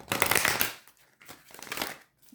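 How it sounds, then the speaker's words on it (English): Tarot cards riffled and shuffled by hand in quick papery bursts, a dense flurry at first, then a pause and a second softer run of shuffling, close and quiet. "Going to shuffle this,"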